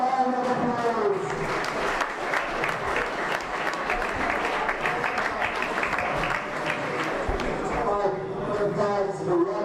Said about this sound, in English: Let's give these fighters another massive round of applause.